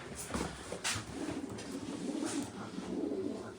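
White pigeons kept by a fancier give faint, soft, continuous cooing beneath a steady hiss of background noise.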